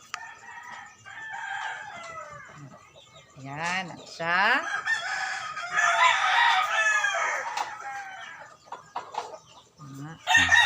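Hens cluck and a rooster crows nearby, its call rising and falling over several seconds, while a person speaks briefly.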